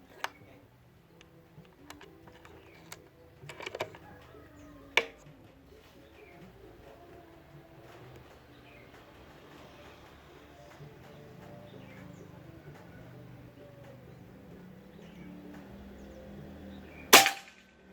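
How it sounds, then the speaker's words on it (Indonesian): Faint clicks and handling taps lead up to a single sharp, loud shot from a Bocap Pajero Gun Gen 5 PCP air rifle near the end, set against quiet outdoor background. "Tembakan keempat Mas ya."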